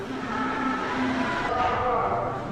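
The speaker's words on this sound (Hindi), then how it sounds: "कूड़े वाली गाड़ी आ रही है" Garbage truck rolling past outside, a steady loud vehicle rumble and engine drone filling the whole stretch, with some talk-like sound mixed in.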